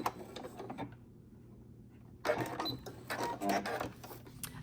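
A sewing machine stitches a rod pocket onto a worship flag in short bursts, with a near-silent pause midway before a louder, busier run of mechanical clatter resumes.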